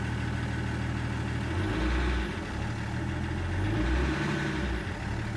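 A car idling steadily after starting, following about six weeks parked, with a low rumbling drone that swells slightly twice; no one talks.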